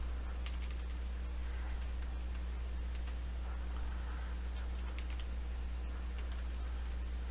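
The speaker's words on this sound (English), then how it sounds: "If I start typing in here" Typing on a computer keyboard in a quiet room comes as soft, uneven key clicks in short bursts over a steady low electrical hum, with no one speaking.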